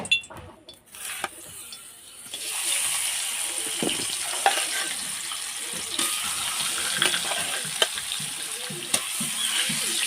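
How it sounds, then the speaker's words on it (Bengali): Bata fish hit hot oil in a wok during village-style home cooking. After a quiet opening, a loud, steady crackling sizzle fills the rest, with occasional sharp clinks and spatters close by. "তেলটা গরম হয়ে গেছে, এবার মাছগুলো দিয়ে দেবো।"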